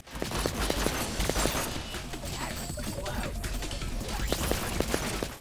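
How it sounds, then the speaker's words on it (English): Gunshot effects from an NFT shooter game on Steam: a rapid run of thin, sharp reports and clattering hits over game noise, steady and fairly loud throughout. "This is what the gunshots sound like."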